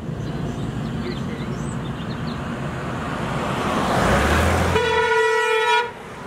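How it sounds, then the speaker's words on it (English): Car passing on a residential street, tyre and engine noise building to a close pass, followed by a long sustained horn toot near the end. "There's another car."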